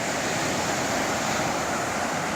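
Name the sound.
ocean waves on the shore at Goseong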